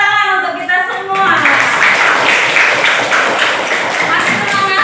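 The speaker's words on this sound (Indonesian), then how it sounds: "Tepuk tangan untuk kita semua" Classroom of students clapping their hands together in a school lesson, a dense burst of applause rising after a brief spoken moment and continuing steadily to the end.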